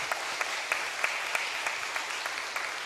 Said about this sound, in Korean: 이 모든 여름 성경학교 가운데 함께 해주신 하나님께 영광의 박수 다 함께 올려드리면서